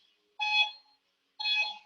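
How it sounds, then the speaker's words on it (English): A workout interval timer gives two short electronic beeps about a second apart, each a clean mid-high tone with a lower undertone, fairly quiet against near silence. "Timer is on, counting down from 10 seconds."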